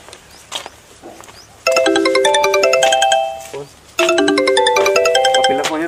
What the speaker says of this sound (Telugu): పిల్ల ఫోన్ చెప్తున్నట్టుంది